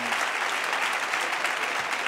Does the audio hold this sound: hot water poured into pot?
no